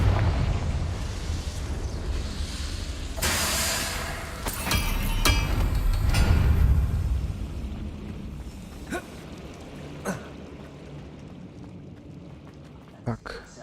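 A Confringo explosive spell blast in Hogwarts Legacy booms out in a broad, roaring burst, followed by crackling debris and a few sharp impacts as the rumble fades over several seconds.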